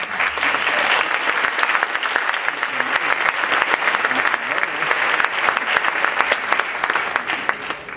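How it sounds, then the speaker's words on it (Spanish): Loud, sustained applause from a large audience at a graduation ceremony, steady dense clapping throughout with no breaks. "Outro forte aplauso, por favor."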